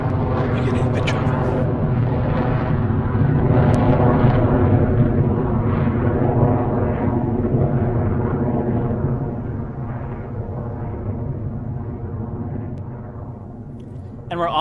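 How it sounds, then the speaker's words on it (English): An Electron rocket launch in Spaceflight Simulator roars as a dense, continuous low rumble, loud and steady before easing slightly toward the end. "And we're off the pad for our 8th Electron launch."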